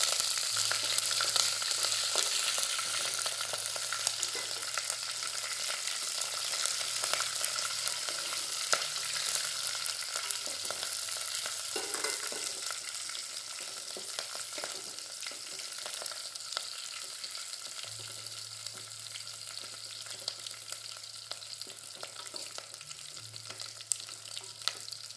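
Green chillies sizzle steadily in hot oil in a pan, cooked with cumin and cloves for biryani rice, a dense continuous frying hiss lasting throughout with faint stirring noises and a low hum in the background.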